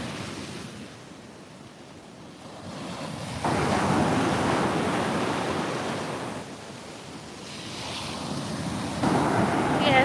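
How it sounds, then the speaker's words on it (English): Waves surge and wash ashore at a breezy Puerto Rico beach, with steady wind buffeting the microphone and the surf rising and falling in loud rolling bursts. "Yeah, it's nice and breezy."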